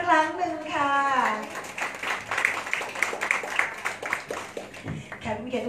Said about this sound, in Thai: ขอขอบคุณเสียงปรบมือดังๆอีกสักครั้งหนึ่งค่ะ